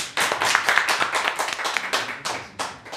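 A small audience at a seminar claps. The individual hand claps are close and distinct, forming a brisk, uneven patter that keeps going throughout without any talking.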